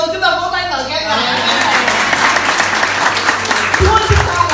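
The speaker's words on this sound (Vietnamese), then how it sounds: "Chúng ta vỗ tay lời khen Ngài" A church congregation breaks into applause, a loud, sustained wash of many hands clapping that fills the room, with voices mixed in.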